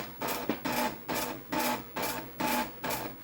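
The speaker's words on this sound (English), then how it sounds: "Let's see what kind of characters this machine can produce and print the ASCII table." A dot matrix printer with its lid closed prints the ASCII table, rhythmic buzzing passes of the print head about every half second, separated by brief pauses, loud and close with no voices.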